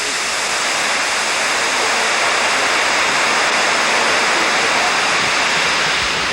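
A nearly 80-foot waterfall in northern Ohio plunging into a valley, heard as a loud, dense, constant roar of falling water with no pauses or voices.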